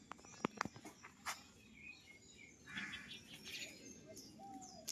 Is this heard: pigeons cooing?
yes